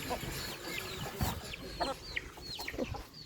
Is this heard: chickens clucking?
yes